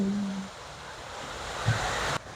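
Water from a waterfall feature in a large rooftop park cascades in a steady broadband rush, with a brief low tone and a faint bump near the end before it cuts abruptly.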